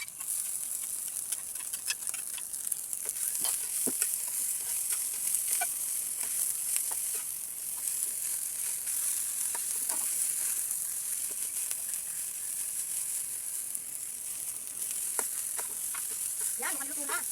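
Vegetables sizzle and fry steadily in a hot pan, with scattered scraping and clinking as they are stirred, close and continuous throughout.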